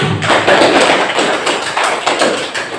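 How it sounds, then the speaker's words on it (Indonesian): A class of students claps together in a classroom, a dense, even patter of applause that stays strong for a few seconds with little talk over it. "Beri aplaus dulu"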